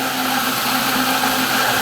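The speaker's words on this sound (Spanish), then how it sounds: "La licuadora pónganlo en lo más bajo." A blender on its lowest setting mixes Maseca corn flour into water, a steady, loud whirring motor hum that holds evenly throughout the short stretch.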